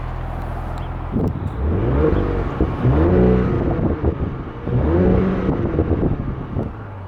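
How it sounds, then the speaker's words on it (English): A warmed-up 2018 Audi S5 Sportback engine runs close by, rising in a few strong revving surges before settling back to a deep, steady rumble. "Now I have the vehicle warmed up for you, so I'm going to let you hear the engine."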